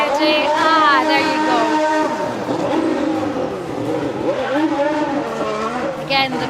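A Ferrari Formula 1 car driven by Hamilton spins donuts at full throttle, its engine screaming loudly in close view with tyre squeal woven through, while crowd noise and voices sit underneath.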